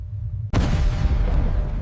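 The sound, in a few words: explosion of a 6-inch naval shell striking a destroyer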